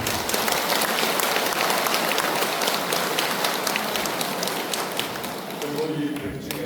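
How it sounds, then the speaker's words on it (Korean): Applause from a congregation at a Buddhist temple Ullambana (Baekjung) dharma service, a dense, steady wash of clapping that fills the hall throughout and thins slightly near the end, with no voices standing out. "우리 훈계원에서 뜨거운 박수 한번 부탁드립니다"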